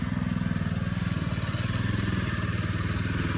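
A Hecht 2650 motorized dumper's small engine runs at a steady idle, throbbing close by in a fast, even rhythm.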